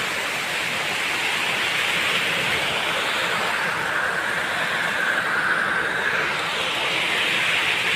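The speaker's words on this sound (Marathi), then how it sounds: "रोड भर कसं रोडावरून पाणी बघा कसं जायलंय रोडवरून" Steady, dense rushing of water covers the whole stretch, a broad wash like heavy runoff streaming across pavement and pouring off a roof, with no voices.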